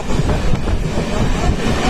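A moving train between Banihal and Srinagar in Kashmir rumbles loudly from close by, a heavy continuous low roar with faint rhythmic rattling of the carriages.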